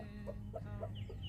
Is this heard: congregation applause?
no